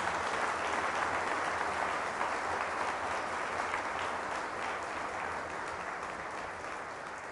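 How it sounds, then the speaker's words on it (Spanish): Steady, sustained applause from a church congregation honoring Jesus during a Spanish-language Catholic prayer service, dense and even throughout, slowly easing toward the end. "Fuertes aplausos al Señor Jesús."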